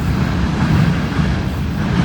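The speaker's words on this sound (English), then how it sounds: "Comes another intermodal" An intermodal freight train rumbles past outdoors, a loud sustained low roar with broadband wind-like noise and no clear individual clacks.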